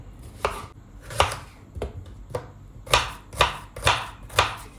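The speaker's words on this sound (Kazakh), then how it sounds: "Ең алдымен пиязды тураймыз." A knife chops an onion steadily on a board, about eight crisp strikes in an uneven rhythm, close and clear with no talking.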